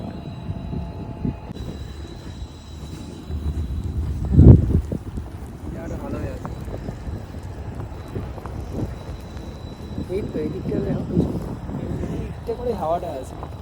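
Wind buffets the microphone in a steady low rumble with louder gusts, while a person talks over it.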